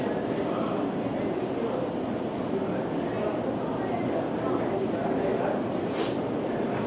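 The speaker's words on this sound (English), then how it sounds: "The local trains in Bombay, for me are a great romance." A Bombay local commuter train rattles along steadily with a dense clattering rumble, loud and continuous, with faint talk mixed into the noise.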